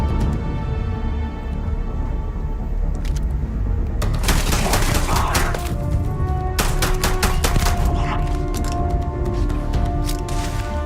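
Gunfire from a weapon in the video game Starfield: sustained rapid shots with sharp cracks, loud and continuous over a steady droning game background.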